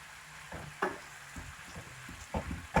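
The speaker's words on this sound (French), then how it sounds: "on va faire rissoler nos courgettes" Courgette slices frying in a pan over medium-high heat, soft sizzle punctuated by several scraping, clattering stirs of a utensil against the pan.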